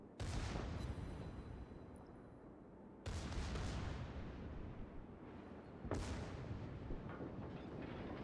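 The main guns of the British battleship Warspite firing in the naval game World of Warships: three loud, booming salvos, each rolling off into a long, heavy decay.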